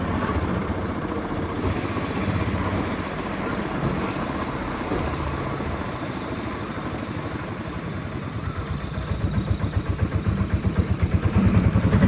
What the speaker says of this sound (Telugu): ఇక్కడ చూడండి మోటార్ ఉన్నట్టుంది మోటార్ బైక్ ఇవి ఎక్కువగా మన బీచ్లో కనిపిస్తూ ఉంటాయి